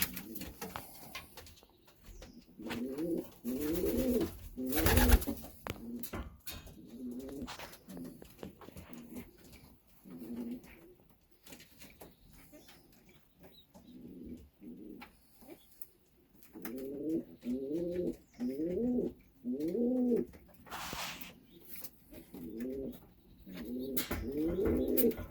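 Pigeons coo close by in a nest setting, repeated soft rolling phrases coming in bursts with pauses between, plus a few wing flutters and knocks.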